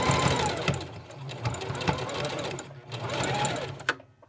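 A sewing machine zigzag-stitches elastic onto a fabric face mask, running in steady close bursts with brief pauses between passes and a final stop near the end.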